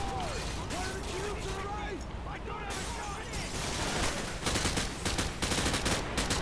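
Dense automatic gunfire rattles in Call of Duty: Modern Warfare 2, bursts of shots layered over busy battle noise, with a voice talking through part of it.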